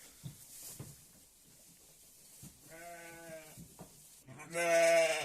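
A sheep that has just given birth bleats loudly in short, harmonic calls, close by, while cleaning its newborn lamb, with soft rustling and shuffling between the cries.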